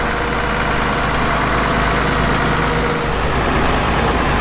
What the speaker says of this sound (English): First up is an International 1066 Farmall Tractor with canopy rocks